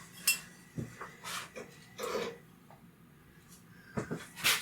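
Deep dish plates set out on a kitchen counter while cooking caramelized pork and vegetables on rice, a few sharp ceramic clinks and clatters close by, spaced apart against a quiet background.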